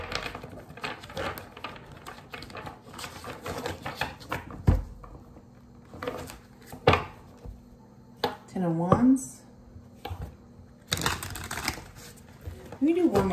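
Tarot cards are shuffled in quick, papery riffles and taps, close up and in bursts, with soft speech in between.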